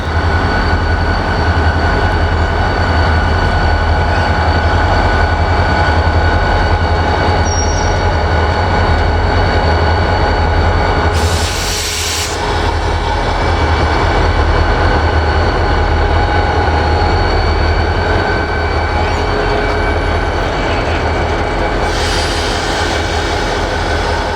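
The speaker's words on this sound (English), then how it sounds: "But here's the RJ Corman locomotives now." RJ Corman diesel locomotives pass close by on a railroad line near Johnstown, Pennsylvania, with a loud, steady engine drone and rolling wheel noise throughout, and a brief hiss or horn-like burst partway through.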